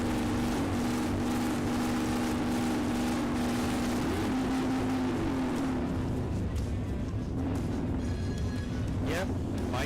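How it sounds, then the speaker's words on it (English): Loud motorcycle engines rumble and rev continuously nearby at the Iron Horse Saloon during Daytona Beach Bike Week, their pitch rising and falling, with crowd noise underneath. "You can hear them revving it up right now"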